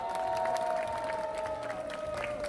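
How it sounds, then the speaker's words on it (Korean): A crowd at an outdoor rally applauds and cheers, the clapping faint and spread out under a steady whine that slowly drops in pitch, with no one talking. "박수 한번 부탁드립니다."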